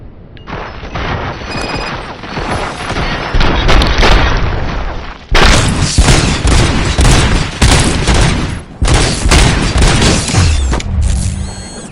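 Gunfire and booming blasts in the RoboCop Rogue City video game, loud and dense with sustained bursts, brief gaps and heavy impacts throughout.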